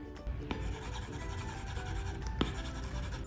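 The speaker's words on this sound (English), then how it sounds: "It sounds like you're writing on paper." A stylus writing on a paper-textured screen protector on an iPad Pro, held close to the microphone, gives a soft continuous scratchy rubbing with a couple of small taps, faint and steady with no talking.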